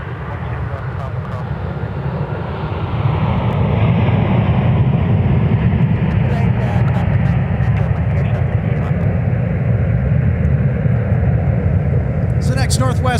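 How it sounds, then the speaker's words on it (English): A Northwest Airlines Airbus A319 arrives at Minneapolis airport: a broad, steady jet roar swells in around three seconds and holds loud and close to the end, with voices audible over it. "So next, Northwest Airlines A319 arriving from DCA, that's Ronald Reagan National Airport."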